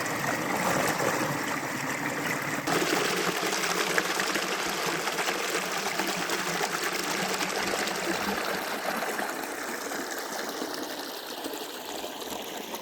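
Water rushes and gushes steadily through an opened-up beaver dam packed with mud and grass, a continuous close, even flow with no voices.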